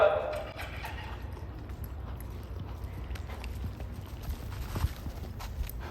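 A young colt's hooves thud on soft ground in a training pen as it walks, trots and lopes, a muffled, steady, rhythmic beat at mid-distance under wind noise.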